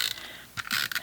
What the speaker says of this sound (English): You don't get the kind of ratchety sound that you get with this.